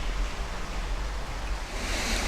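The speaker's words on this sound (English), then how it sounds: "if you're doing the pour over, just pour it in a circular motion." Water poured in a steady circular stream over coffee grounds in the filter of a 1,500 ml cold brew maker, a continuous close rushing hiss with no talk.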